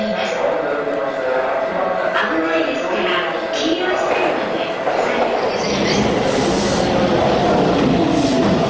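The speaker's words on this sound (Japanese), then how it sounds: "間もなく6番線に快速磯子行きが参ります" A rapid train rumbles and clatters into platform 6 of a Tokyo station, its rolling noise growing louder near the end, while a Japanese platform announcement voice speaks over it.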